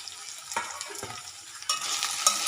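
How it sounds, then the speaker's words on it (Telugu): Soaked meal maker soy chunks tumble into a hot pan and get stirred, a low sizzle broken by scraping spoon strokes and a louder burst of frying partway through, with no speech. "ఇప్పుడు నానబెట్టి పెట్టుకున్న మీల్ మేకర్ కూడా ఇందులో వేసుకుందాం."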